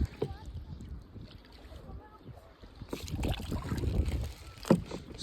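A kayak paddle dips and splashes through the water while out kayak fishing, with irregular strokes, small drips and some wind buffeting, and the splashing grows louder and more vigorous partway through.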